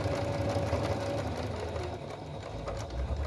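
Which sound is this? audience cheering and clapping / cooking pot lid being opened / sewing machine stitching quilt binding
sewing machine stitching quilt binding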